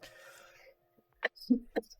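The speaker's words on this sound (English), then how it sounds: "Oh, a cough there." A few short, husky coughs come in quick bursts near the microphone after a moment of quiet, preceded by faint indistinct sound.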